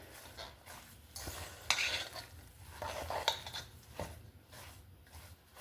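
Hamburger meat being mixed with a regular dinner fork in a bowl, repeated soft scraping and clinking taps of metal against the dish in an irregular rhythm, close and fairly quiet.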